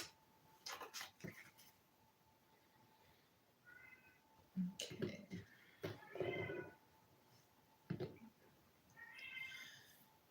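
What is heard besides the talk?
cat meowing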